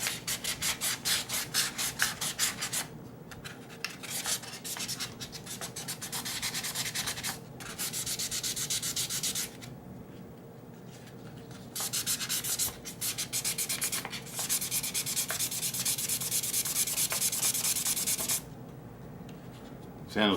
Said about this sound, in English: Have to go at those with a little bit more aggressive sandpaper.